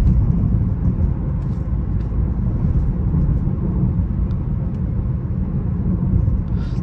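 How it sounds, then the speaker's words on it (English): A BMW cruising through city streets late at night gives a steady, loud engine and road rumble from inside the car that never lets up, with no one speaking. "We just riding, driving through the city late at night"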